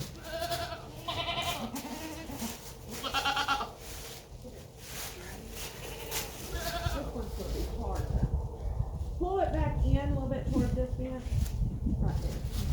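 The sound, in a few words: goats bleating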